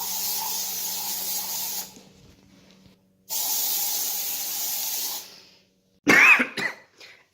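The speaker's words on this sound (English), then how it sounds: "So we've got this air freshener here. We're going to go spray it in front of the door." An aerosol can of air freshener is sprayed in front of a door in a corridor, giving two long, steady hissing bursts of a couple of seconds each, close and fairly loud, followed by a short cough-like sound.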